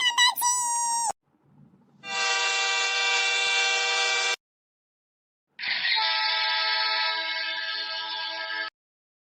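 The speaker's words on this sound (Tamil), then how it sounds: "ட்ரெயின் வரப்போகுது." A cartoon train horn sounds in two long, loud sustained blasts with a gap between them, preceded by a short chime, at a station platform.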